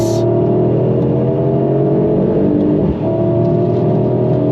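Mercedes AMG GT 63 with its V8 engine revving hard, a loud, close, sustained roar with a steady droning tone and a brief dip near the end, no talk over it.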